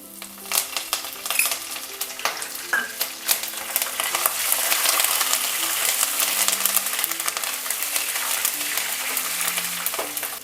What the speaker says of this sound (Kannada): ಇವಾಗ ಇದೆಲ್ಲ ಚೆನ್ನಾಗಿ ಫ್ರೈ ಆಗಿದೆ ಮೆಣಸಿನ್ಕಾಯಿ ಆ್ಯಡ್ ಮಾಡ್ತಿದ್ದೀನಿ ಕರ್ಬೇವಿನ ಸೊಪ್ಪು ಆ್ಯಡ್ ಮಾಡ್ತಿದ್ದೀನಿ